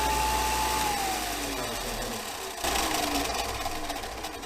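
Porter-Cable benchtop belt sander running with a fresh belt, a continuous loud motor hum and gritty abrasive hiss. The pitch dips slightly as the belt loads, with a brief drop partway through.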